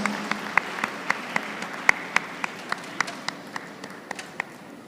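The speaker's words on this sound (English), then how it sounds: "Let's give her a huge round of applause." An audience at a university convocation claps for a graduate with sparse, evenly spaced claps ringing out one after another in a large hall, steady and moderately loud.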